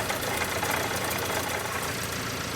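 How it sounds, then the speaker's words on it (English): The running engine of a Ford Transit Connect with a rattling alternator gives a steady, close idle hum with a continuous fine rattle and knock. "That alternator is rattling."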